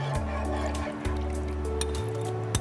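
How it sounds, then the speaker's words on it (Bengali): Custard mixture trickles as it is poured into milk in a pot, a soft, faint liquid pour set against a steady tonal hum from the kitchen. "আমি এখন এটা মিশানো হয়ে গেছে, আমি দুধের সাথে দিয়ে দিচ্ছি"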